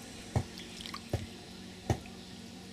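Grapes being washed by hand in water for homemade grape wine: soft splashy squishes and drips at a slow, uneven pace, quiet and close.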